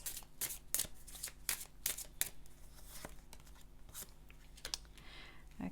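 Tarot cards are shuffled for a reading in a quick run of soft, close riffling and rustling bursts, fairly quiet and with no voice over them.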